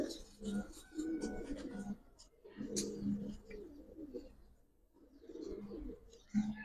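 Military and Lalpatti pigeons coo on a farm in a steady run of low, throaty calls, pausing briefly midway before resuming, with faint background noise.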